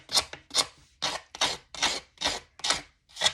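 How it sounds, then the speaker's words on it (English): Scissors scrape and rasp along the edge of an embossed paper card to rough it up, eight quick, evenly spaced strokes heard close and clear with no talking. "So I'm just going to take my scissors."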